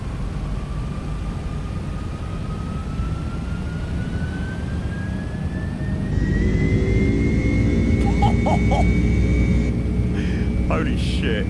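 MD-11 jet engines in a flight simulator spool up to takeoff thrust: a constant heavy roar with a slowly rising whine that swells noticeably louder and deeper partway through.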